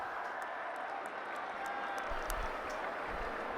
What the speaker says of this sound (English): applauded the chase from Potts